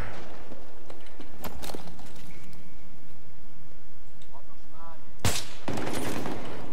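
Gunfire in the video game Battlefield 3, loud sharp bursts of shots near the start and a strong blast toward the end, with quieter game sounds in between.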